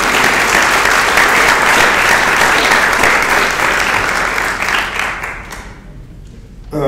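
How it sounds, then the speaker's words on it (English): Sustained applause from an audience at a residents council meeting, loud and dense for several seconds, then thinning and fading out near the end. "But I think we need to give a big round of applause to Tony and Sandy."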